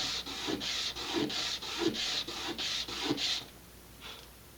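Sanding burrs off a small part for an Estes Vanguard Eagle model rocket kit, close, rhythmic scraping rubs at about two strokes per second, roughly ten passes, then the strokes stop.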